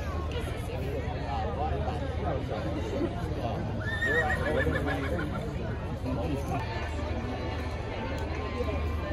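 Horses whinny and neigh at an Australian campdraft competition, with one clear whinny standing out amid a steady murmur of crowd chatter and outdoor noise.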